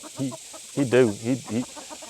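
A rooster gives a run of short, throaty clucks close by, in uneven bursts with brief gaps, alone and without talk.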